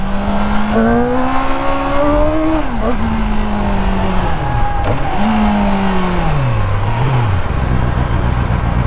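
The stock-exhaust engine of a standard Bristol Kove 450R motorcycle is revved repeatedly close by. Its pitch climbs, drops and swells again in several loud throttle blips with no talking.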